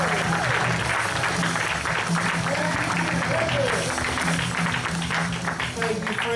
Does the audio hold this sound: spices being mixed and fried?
no